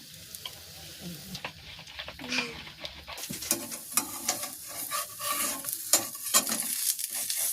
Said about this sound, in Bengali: হালকা একটু তেলের ছোঁয়া দিয়ে দিচ্ছি ব্রাশটা দিয়ে।